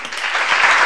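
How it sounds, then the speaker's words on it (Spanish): Less than a second of applause, a short, dense burst of clapping that swells slightly, heard on its own without talking. "¡Aplauso, aplauso!"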